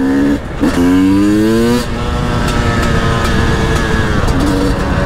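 A two-stroke 300 TPI supermoto motorcycle revs up close, its engine pitch rising through quick shifts with brief drops between gears, then holding a steady, buzzing drone as the bike runs on.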